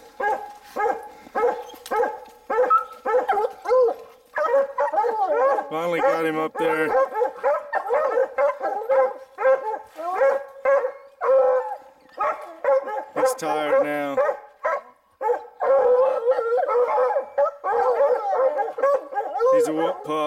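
Hunting hounds bay at a treed mountain lion, loud repeated barking and howling layered from several dogs nearby, continuing throughout while a person speaks briefly.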